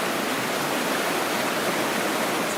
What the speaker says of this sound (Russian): такая бурная речка